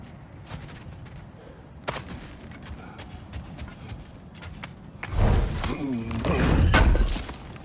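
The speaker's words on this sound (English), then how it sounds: "Back to smashing through things for fun and profit." Objects being smashed in the video game God of War Ragnarok: a few sharp cracks and thuds early on, then a loud burst of shattering and crashing debris near the end.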